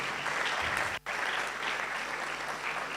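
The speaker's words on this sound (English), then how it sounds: "a clap for Esther" Steady applause from an audience at a cyber-skills graduation ceremony, clapping for a graduate; dense, continuous clapping with one brief break near the middle.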